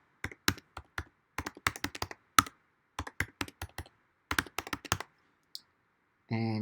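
A password typed on a computer keyboard on an Ubuntu machine, close, crisp key taps in quick irregular bursts with brief pauses, ending in a short voiced sound.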